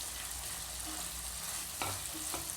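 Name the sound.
fried cauliflower stirred into Manchurian sauce in a pan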